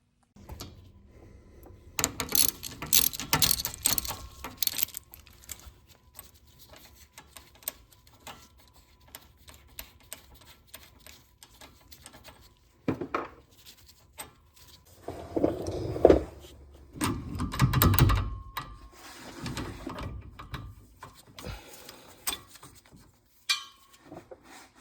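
Drive shaft being pulled from beneath a car with a TKO600 transmission: scattered metallic clanks, ratcheting clicks and rubbing scrapes come in bursts with quiet gaps, close to the work.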